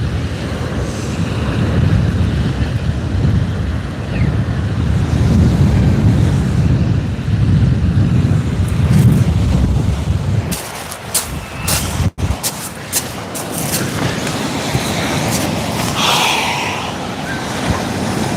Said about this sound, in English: kicked right up that wind is